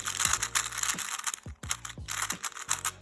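An old Dayan or Gan 3x3 puzzle cube, dry from years on a shelf, turned in quick bursts of clicky ratcheting layer turns separated by short pauses, close and fairly quiet.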